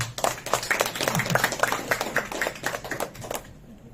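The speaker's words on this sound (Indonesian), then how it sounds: "Tepuk tangan buat yang tidur." An audience at a health seminar claps together, a fairly loud run of sharp, roughly regular hand claps that stop abruptly just before the end, leaving near silence.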